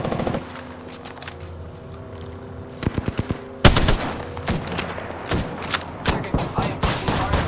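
Gunfire in an Apex Legends battle during a final-circle fight: loud rapid bursts of automatic fire and single shots, sporadic at first, then sustained volleys with heavy impacts, dense and close.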